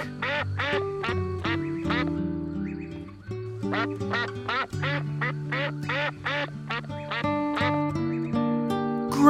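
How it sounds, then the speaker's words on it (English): A duck quacks in a rapid, repeated series of loud, close calls over soft background music. "It's a duck."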